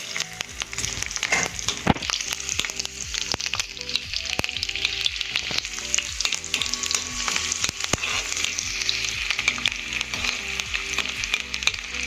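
Chopped ginger hits a hot, oily pan with garlic for a spicy Indian yam gravy, giving a loud, steady sizzle and crackle throughout, broken by occasional scrapes of a spoon, with no talking.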